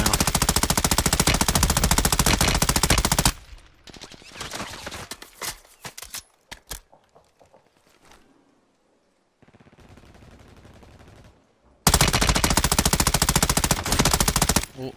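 Rapid machine-gun bursts rattle loudly in the Warzone video game, dropping into scattered quieter shots and near silence before another long burst erupts.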